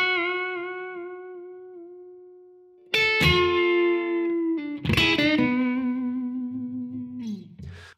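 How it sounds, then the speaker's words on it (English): Electric guitar on the neck pickup with volume near 9 plays the opening lick of a minor blues solo: a sustained bent note, then two sharp, ringing phrases with vibrato, close and alone. "I'm playing this solo with the neck pickup"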